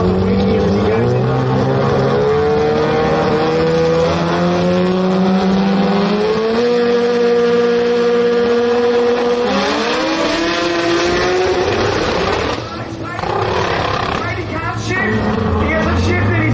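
Drag racing cars, among them a Toyota four-cylinder and a 13B rotary sedan, roar down a drag strip in loud sustained engine howls with rising pitch sweeps through gear changes, heard alongside constant excited commentary.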